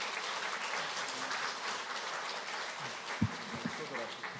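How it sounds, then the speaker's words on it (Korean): Church congregation applauding at a Sunday afternoon worship service to welcome a guest pastor, a steady wash of clapping throughout with a few louder claps near the end. "목사님 나오실 때 크게 박수로 한 번 더 환영하겠습니다"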